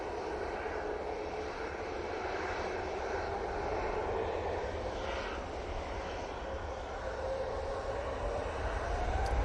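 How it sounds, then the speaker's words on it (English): A Ryanair Boeing 737 MAX 8 taxiing at Manchester Airport, a steady engine rumble and whine with a slowly rising tone, moderately close and without talk. "Ryanair 737 MAX 8 coming on via Victor Bravo"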